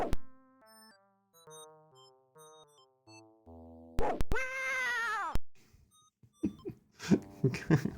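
Retro PC game Tex Murphy: Martian Memorandum, a cat meowing in chiptune-like synthesized tones: a stepped run of electronic notes, then one loud sustained meow and a burst of shorter harsh yowls.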